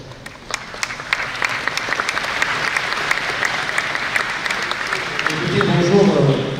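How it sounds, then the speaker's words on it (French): Audience at a chess tournament round in Nîmes claps loudly and steadily, a dense broad patter that swells louder toward the end, with a voice partly heard over it. "On peut applaudir très fort."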